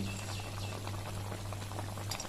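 Radish sambar boils in a pot with a steady, close bubbling and simmering hiss, unbroken and alone.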